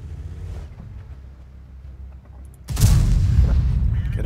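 A heavy artillery boom from the World of Tanks tank battle game hits suddenly after a quieter stretch of low rumble, followed by a loud, sustained roar and crackle.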